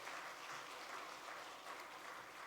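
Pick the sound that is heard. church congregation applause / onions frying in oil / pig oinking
church congregation applause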